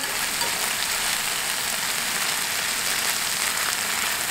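Sauerkraut sizzles and crackles steadily in a hot frying pan while it is stirred, a dense, even frying hiss that runs loud and unbroken without any voices.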